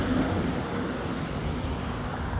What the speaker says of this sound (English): Get away from these loud cars, too.